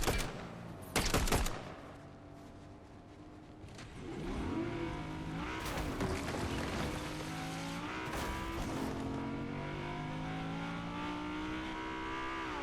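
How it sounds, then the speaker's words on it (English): A G-Wagon pulls up in the video game Fortnite, its engine rumbling and revving steadily for several seconds after a couple of sharp bursts at the start, loud and close. "Another G-Wagon pulling up."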